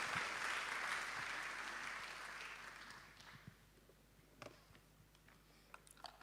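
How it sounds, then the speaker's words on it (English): Audience applause for a pharmacist speaker at a pharmacists' induction ceremony in Ghana: a dense, steady clapping wash that fades after about three seconds into a few scattered claps and light room noise. "Ladies and gentlemen, a round of applause for Pharm Dr."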